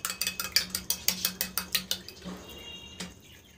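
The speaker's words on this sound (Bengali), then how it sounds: "দিয়ে ডিমটাকে ভালো করে ঘুটে নেব" An egg with a pinch of salt is beaten briskly in a bowl, giving a quick, regular run of about a dozen close clinks and scrapes that then trails off into quiet handling.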